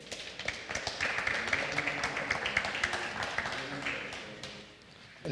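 A lecture-hall audience at a talk on yeasts and microscopic fungi gives a speaker several seconds of steady, moderately loud applause, with dense overlapping claps that taper off near the end.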